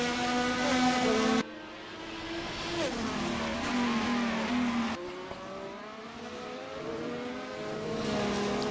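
A racing car engine in a racing simulator game drones loud and steady, its pitch rising and falling through gear shifts as it runs laps.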